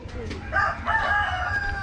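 A backyard rooster crows once, a drawn-out, slightly rough call rising and holding for over a second, fairly close against light background noise.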